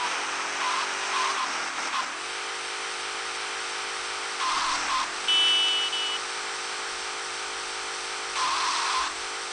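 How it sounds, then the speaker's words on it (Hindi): A car in the video game GTA Vice City drives up onto a ramp on a runway, its steady engine drone running throughout with brief rises and a short electronic beep partway through, no talking. "अब मैं रैंप के ऊपर चलाता हूँ गाड़ी।"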